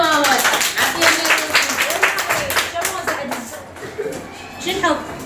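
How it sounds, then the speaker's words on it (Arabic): Kindergarten children clap together in class, a quick burst of rhythmic hand claps close by, mixed with an adult voice talking and children's voices. "صفقوا له ماما"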